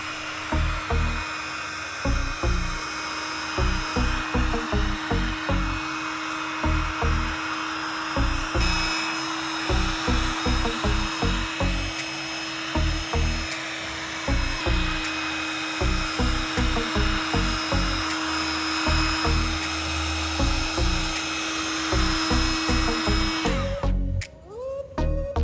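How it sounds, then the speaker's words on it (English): A heat gun drying a restored plastic headlight lens blows a steady whining, airy roar, close and loud, pulsing in a fast regular rhythm for the length of the clip before cutting off near the end. "I then use a heat gun to dry it completely, preparing for the final restoration step."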